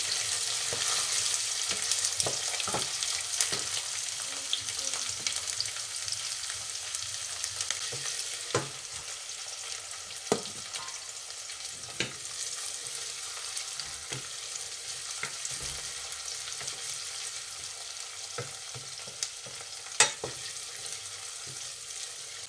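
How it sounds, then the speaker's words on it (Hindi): Onions and garlic frying in a pan, a continuous sizzle with scattered sharp spatula scrapes and taps repeating every few seconds, moderately loud and without talk. "तो यहाँ डालूँगी मैं इसमें प्याज, और प्याज को भी भूनेंगे।"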